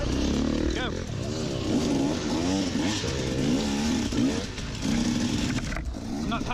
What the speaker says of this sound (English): Hear a guy behind me rev bombing